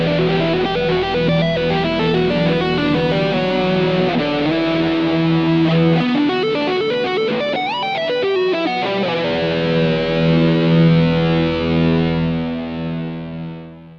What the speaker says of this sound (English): on this patch, whenever I play a note, it's gonna add a keyboard pad underneath it